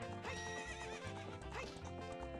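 Epona the horse neighing in Ocarina of Time, a loud whinny with wavering pitch over galloping hoof clip-clops and background game music.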